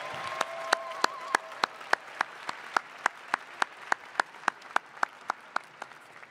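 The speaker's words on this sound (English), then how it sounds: "join me in a round of applause for the Masters of Science in Artificial Intelligence Systems Management" Sustained audience applause at a university graduation hooding and diploma ceremony honoring Master of Science in Artificial Intelligence Systems Management graduates, with sharp, fairly regular prominent claps riding over a dense wash of crowd clapping in a large hall.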